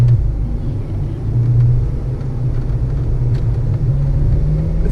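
Deep low rumble from a Ferrari F12 Berlinetta V12 running with its exhaust valves closed, a steady muted drone heard from inside the cabin, with no voices.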